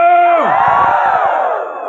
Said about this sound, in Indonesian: Kita akhiri dengan lengkingan semangat.